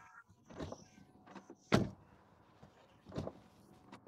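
A Tesla Model Y door shutting with a rough, metallic thud: one sharp, loud slam near the middle, flanked by softer handling and latch sounds before and after, close by.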